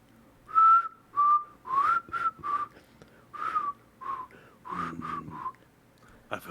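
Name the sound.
person whistling a happy tune, imitating a dwarven cart driver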